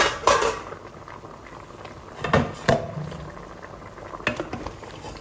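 Turkey meat cooks in a pot while stirring clinks and scrapes against the pot at irregular intervals over a faint bubbling background, no voices.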